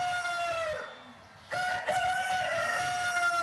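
A rooster crows loudly at a political campaign rally, a long drawn-out cock-a-doodle-doo that breaks off briefly and then resumes with a second sustained call.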